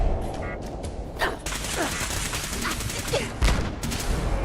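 Video-game gunfire in rapid bursts, a dense crackling fusillade that runs almost continuously with a few heavier shots standing out, close and loud.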